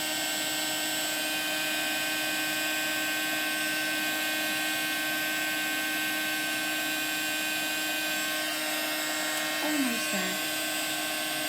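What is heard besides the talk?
heat gun used for heat embossing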